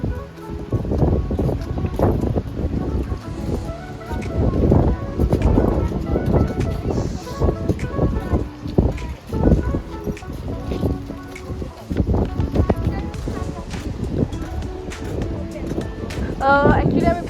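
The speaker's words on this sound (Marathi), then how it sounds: "वारा पण खूप असं छान मस्त सुटलेला आहे" Loud, gusty wind buffets the microphone continuously at Harihareshwar beach, with a rumbling roar and people talking faintly underneath.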